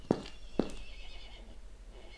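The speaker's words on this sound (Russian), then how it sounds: "А что здесь лошадь делает?" A horse in the video game Block Story gives a faint whinny, with a couple of sharp thumps over low game ambience.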